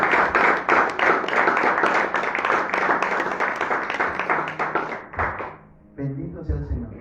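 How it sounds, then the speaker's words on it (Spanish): A church congregation claps and applauds loudly and continuously, with a few sharp taps and thumps in the mix, then the applause breaks off and a voice begins speaking. "Bríndale un aplauso a él"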